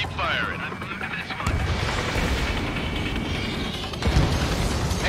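Rapid aircraft gunfire and heavy booms from Ace Combat 7: Skies Unknown, loud and continuous throughout, with a harder burst near the end, while radio voices talk over the combat.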